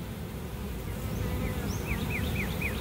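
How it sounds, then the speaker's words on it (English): A swarm of bees buzzes steadily and close by, with a dense insect drone throughout and occasional higher chirping calls above it. "That bee is a queen bee."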